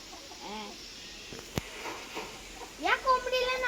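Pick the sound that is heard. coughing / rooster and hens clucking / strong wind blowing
rooster and hens clucking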